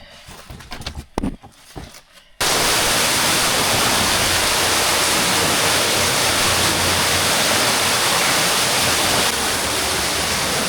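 An underground waterfall in a cave pours with a loud, steady, close-up roar of falling water. It follows a couple of seconds of quieter knocks and handling sounds.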